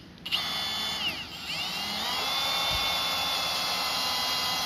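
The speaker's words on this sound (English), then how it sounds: "it is not difficult to drill the crash bar" A power drill whines steadily into a car's metal crash bar at low RPM, its pitch dipping briefly as it bites, then holding a loud, continuous high drone.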